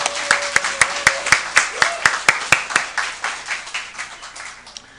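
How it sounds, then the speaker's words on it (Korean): Thanks-giving applause from a church congregation at a Sunday service, a run of sharp distinct claps fading over a few seconds. "다시 한번 모든 분들에게 감사의 박수를 드리고 싶습니다."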